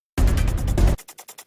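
A sound loop from the Evolve Mutations 2 library opens as a loud, dense sustained burst of roughly a second, then cuts off into a series of short, fading rhythmic pulses.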